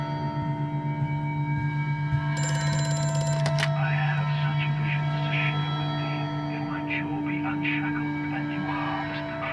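A telephone rings inside the horror game Amnesia: A Machine For Pigs, a bright metallic bell burst under a low droning hum and echoing ambience, with someone talking over it.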